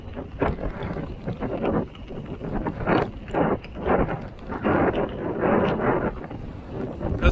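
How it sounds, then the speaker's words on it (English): Strong gusting wind on open water ahead of a storm, roaring and buffeting the microphone in loud, uneven surges throughout. "Oh man, that wind's picking up."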